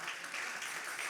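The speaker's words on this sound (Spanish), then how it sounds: "Puede aplaudir con libertad." Brief burst of congregational applause during a church sermon on faith and motherhood, a soft, steady wash of many hands clapping at a modest distance with no voices over it.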